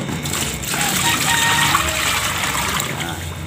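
Water is poured into a container for a tubifex worm culture, making a continuous splashing gush that swells in the middle and stays fairly close and steady.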